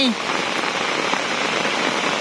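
Steady rain in the late morning over Ban Kok Kok village, a dense, even patter that fills the whole stretch close by, with no pauses or breaks.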